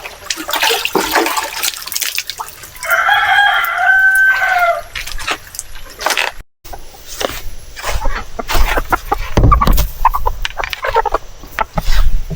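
Hens clucking and a rooster crowing near a backyard coop on a Filipino farm, with one clear crow partway through, scattered clucks and other yard noises around it, and a quiet splash of water near the end.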